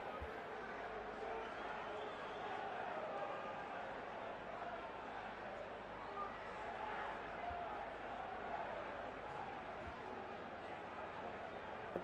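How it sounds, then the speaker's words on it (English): Crowd noise fills a baseball stadium during a Dodgers versus Rockies game, a steady dense roar of many voices holding at an even level throughout with no clear peaks. "Crowd making all kinds of noise."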